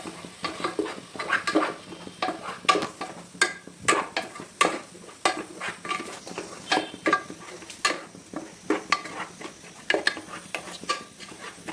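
Stirring onion paste into a curry for a fish (nethalu) dish in a pan, with repeated scraping and clinking strokes of a spoon against the pan and a faint sizzle underneath, close and steady.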